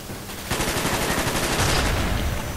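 Rapid automatic fire from a 74U submachine gun in the shooter Black Ops, a loud, continuous rattling burst that kicks in half a second along and keeps hammering to the end.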